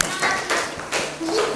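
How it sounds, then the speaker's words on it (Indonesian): A short burst of applause from a group of students in a seventh-grade junior high math class, brief clapping swelling and fading in a couple of waves, fairly close. "Tepuk tangan lagi untuk kelompok"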